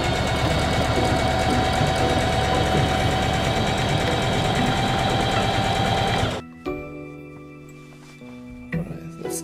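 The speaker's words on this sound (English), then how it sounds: "now let's run it through the sewing machine" A sewing machine stitches fabric for a fursuit tail, running loud and steady with a dense mechanical whir for about six seconds before stopping abruptly, followed by a few faint handling clicks.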